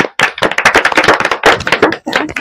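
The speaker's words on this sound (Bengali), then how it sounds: "জিরাফ। তার একটা হাততালি দাও।" A group of children at a Children's Day gathering claps hands together in a loud, close burst of rapid overlapping claps, with two brief pauses between rounds.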